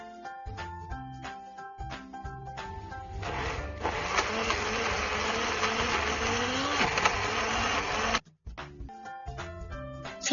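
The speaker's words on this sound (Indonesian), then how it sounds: "kita haluskan terlebih dahulu limbah dari kulit bawang merah dan bawang putihnya dengan menggunakan air dan blender" Electric blender grinding onion and garlic skins with water, a loud whirring whine that starts after a few mechanical clicks and bumps, runs steadily for several seconds, then cuts off abruptly, followed by more clatter.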